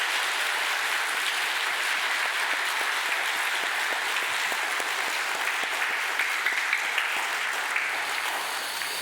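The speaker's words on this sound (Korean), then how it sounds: "우리 하나님 감동 받으시는 박수 한번 크게" A full congregation at a Korean church Sunday service applauds in a steady, even roar of many hands that holds at the same level for the whole nine seconds with no talk over it.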